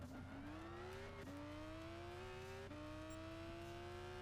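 Race car engine in Gran Turismo 6 during a Le Mans endurance race, revving steadily upward through the gears with distinct pitch drops at each shift, loud and continuous throughout.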